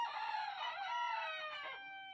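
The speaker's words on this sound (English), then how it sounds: "the roosters are obviously very loud" A rooster crows loudly and close by, one long drawn-out call that trails off at the end.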